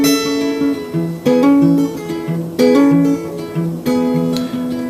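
Acoustic guitar strums a chord progression with hammer-ons, ringing chords and lively melodic fills played steadily and close up, with no voices.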